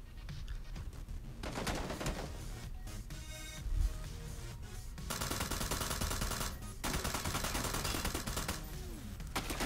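Dense hipfire gunshots ring out in the video game PUBG, with rapid bursts of automatic fire and overlapping shots in a continuous clatter over game sound.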